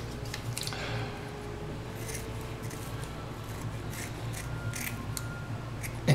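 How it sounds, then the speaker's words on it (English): Scissors cut a fairly large dollar-store cleaning pad in half with a series of faint, close snips and rustles. "cut it in half for using in cleaning the model"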